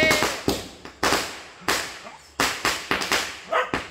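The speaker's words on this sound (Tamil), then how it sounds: "அது என்ன வெடி? லட்சுமி வெடியா?" Small firecrackers burst one after another in a rapid irregular series of sharp, loud cracks, each ringing briefly, nearby and outdoors with voices faintly around.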